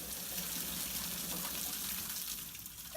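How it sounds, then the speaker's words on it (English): An emergency safety shower in a chemistry lab, switched on by pulling down its lever, pours a steady, loud, unbroken rush of water that continues for the whole stretch. "To use the shower, just pull down the lever like this."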